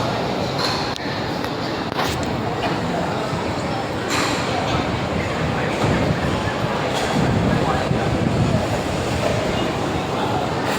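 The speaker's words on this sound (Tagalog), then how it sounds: "Yun, may LRT dumaan." An LRT light rail train passing near a coastal garden in rainy weather, a steady broad rumble with faint rail clatter running throughout, mixed with rain and street ambience.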